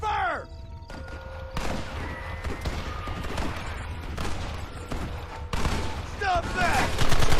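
Heavy gunfire from a shootout in Red Dead Redemption, overlapping rifle and pistol shots crackling in ragged bursts with thuds and shouting voices amid the fight.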